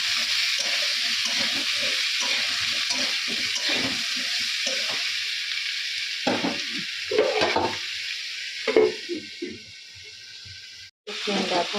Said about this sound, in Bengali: এখানে সমস্ত মশলাগুলো দেওয়া হয়ে গেছে ডাটাও দিয়ে দিচ্ছি সজনার ডাটা